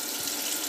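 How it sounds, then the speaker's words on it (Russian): Cold tap water runs steadily into a kitchen sink as carp is rinsed, a close, even hiss of flowing water with no voices. "Теперь заливаем ее холодной водой и несколько раз промываем."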